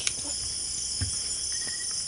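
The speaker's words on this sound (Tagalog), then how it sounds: "meron kayong maririnig na mga huni ng mga kuliglig." Crickets chirp steadily in mountain surroundings, a continuous high trilling insect chorus with a few faint soft knocks underneath and no talking.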